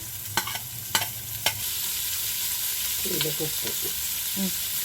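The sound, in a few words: onions frying with fenugreek in a pan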